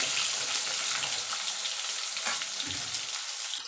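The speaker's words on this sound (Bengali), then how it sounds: "আলু লাল আলু আলুটা একটু ভাজা ভাজা করে নেবো মিনিটখানি" Potatoes sizzle and fry in a pan for a vegetable curry, a close, steady crackle with faint stirring sounds throughout.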